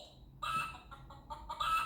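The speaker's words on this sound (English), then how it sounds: "Chickens." Toy chicken clucking from a children's farm-animal sound button book, a short run of electronic clucks that repeat in quick bursts and stand alone at close range.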